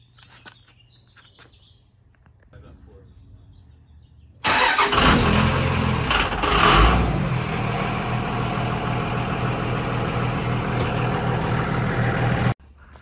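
A car engine starts abruptly and runs steadily in gear so a wheel turns during an at-home wheel cleaning and ceramic coating job, a loud continuous drone after a quiet stretch, then cutting off near the end.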